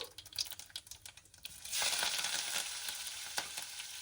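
Chillies and curry leaves hitting hot oil, quiet crackling first, then a sudden loud sizzle that keeps hissing steadily.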